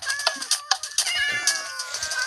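A cat meows repeatedly at close range, a run of short, high, strained cries in quick succession with no talk over them.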